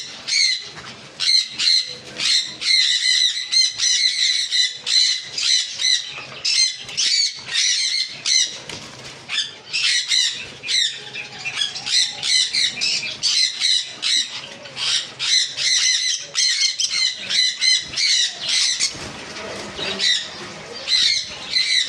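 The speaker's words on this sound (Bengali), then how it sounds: "lutino cockatiel lutino cockatiel বয়সফুল adult পাখি" Lutino cockatiels squawk harshly and repeatedly, several birds calling close by in a constant, overlapping chorus.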